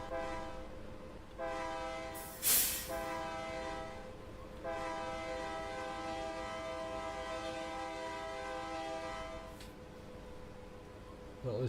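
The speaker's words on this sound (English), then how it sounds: "this vehicle's actually stopped with the train that's going across" A train rolls across a level crossing in Farming Simulator 22, its horn sounding in long sustained blasts that swell loud near the middle, over a steady rumble of passing railcars.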